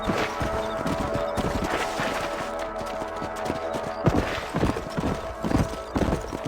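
Horses galloping in the video game Red Dead Redemption on a ranch property, a continuous loud clip-clop of hooves with heavier thudding beats, over an ambient background.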